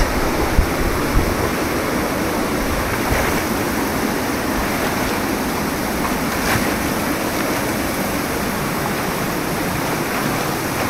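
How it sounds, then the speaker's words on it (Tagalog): Strong water current rushing through a lagoon, a loud, steady, broadband roar of flowing water that fills the scene without pause and without talk. "Lakas ang agos guys."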